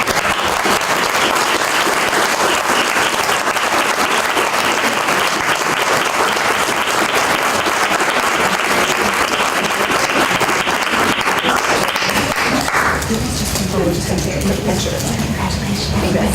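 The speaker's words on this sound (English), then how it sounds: "Now can we clap please?" A school committee audience applauds award recipients as they come forward, sustained loud clapping that fills the room and then thins and softens near the end.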